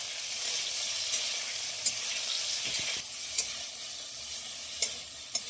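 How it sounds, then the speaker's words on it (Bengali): Cinnamon, ginger and bay leaf fry in white oil in a wok with a steady close sizzle, broken by several sharp stirring clicks and scrapes. "ভাজার জন্য খুব ভালোভাবে নেড়ে দেবো।"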